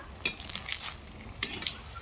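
Chal kumro and coriander leaf chops deep fry in hot oil, a bubbling close sizzle broken by a few sharp spattering bursts as they are turned.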